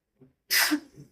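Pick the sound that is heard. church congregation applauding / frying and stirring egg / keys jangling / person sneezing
person sneezing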